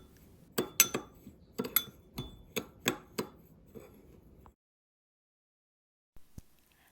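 A utensil stirring cinnamon powder and granulated brown sugar in a bowl gives a run of sharp, close clinks and scrapes in an uneven rhythm, then silence and one last faint tap.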